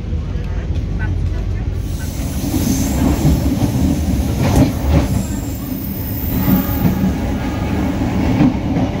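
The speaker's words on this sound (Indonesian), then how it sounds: "Kereta Pangrango sudah diberangkatkan kembali dari stasiun Batu Tulis" Pangrango economy train departing on the Bogor–Sukabumi line, a steady, loud rumble of rail cars rolling along the track with faint wheel clatter and occasional squeal, continuous throughout with some background voices.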